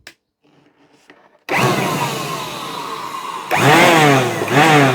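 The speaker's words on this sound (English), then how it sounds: "see if the blower works" A salvaged electric garden leaf blower switching on after a faint click, its motor spinning up into a loud whining roar of blowing air, then rising in pitch and volume again partway through.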